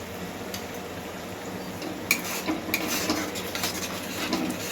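A masala is stir-fried over low heat with a ground paste of cashew, melon seeds, poppy seeds and white sesame, heard as a low sizzle with intermittent spoon scrapes and clinks against the pan, no talk.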